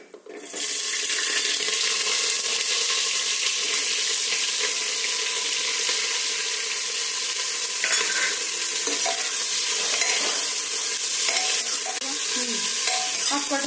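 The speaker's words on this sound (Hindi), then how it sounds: "अब कटहल को हम इसे थोड़ा चला लेंगे" Steady loud sizzling of jackfruit frying in a pan, with scraping and stirring noises throughout and no talking.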